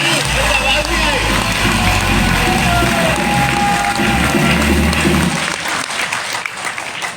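Loud crowd applause at a network-marketing launch event, dense continuous clapping close by, with a low droning hum and a voice underneath, then tapering off near the end.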